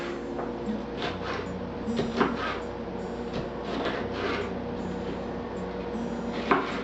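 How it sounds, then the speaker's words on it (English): A knife cuts colored bell peppers into thin slices on a cutting board, a run of soft, irregular close taps and scrapes with a sharper chop near the end, no talk. "So we're going to cut them into slices. I like to have thin slices like this."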